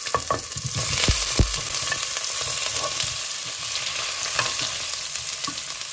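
Potatoes shallow-frying in mustard oil, a loud continuous sizzle and crackle with a few clunks from tossing the pieces early on, steady throughout.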